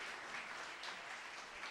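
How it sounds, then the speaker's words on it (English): Faint, steady applause from a conference audience honoring the panelists of a session on religion and nationalism, a brief even wash of clapping heard from a distance. "Please give them a round of applause."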